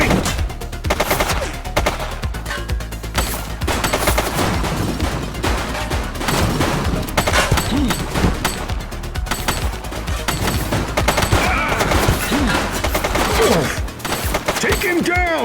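Sustained automatic gunfire from a suspect in the police video game The Precinct, with rapid bursts and overlapping shots crackling almost continuously, loud and dense, mixed with game sounds and occasional shouted voices.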